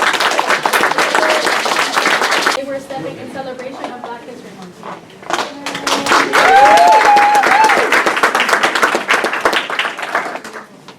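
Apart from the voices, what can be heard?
audience applause for an entertainer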